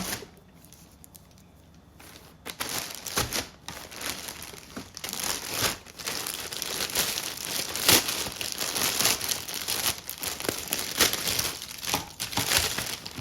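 Packaging from an Amazon parcel crinkles and rustles as it is opened, a quiet start giving way to repeated loud crumpling bursts and tearing sounds that continue throughout.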